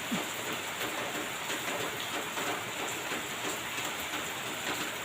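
Steady rain pours down in a continuous dense hiss, close by and fairly even, with no voices.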